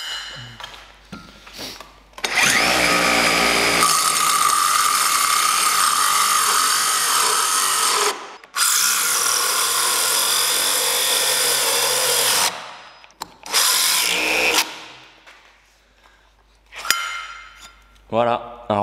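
A RISS ProFit multi-construction hole saw bores into solid oak after melamine, with a loud, sustained grinding whine of the power drill and bursts of cutting, stopping and restarting several times.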